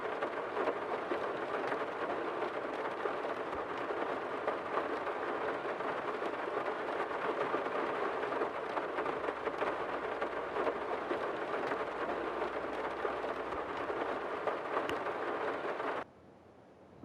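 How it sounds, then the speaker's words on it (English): Steady hissing rain with a low rumble in Farming Simulator 22, a dense, even downpour that holds for about sixteen seconds before cutting off abruptly. "We'll just see if it starts raining."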